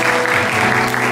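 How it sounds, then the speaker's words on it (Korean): Congregation applause fills a church at an Easter thanksgiving service, a dense, steady wash of clapping throughout a brief moment, with no speech over it. "모두 크게 박수해주세요."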